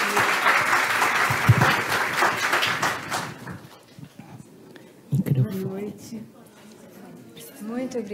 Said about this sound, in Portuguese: Uma salva de palmas para a Glória Kalil, que estará conosco aqui.